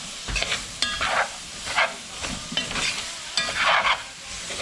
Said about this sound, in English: Mix that up really well.